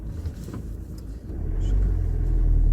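A car engine rumbles low and close as the vehicle drives, the drone swelling and holding steady toward the end, with no talking.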